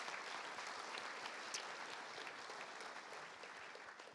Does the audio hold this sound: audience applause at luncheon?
yes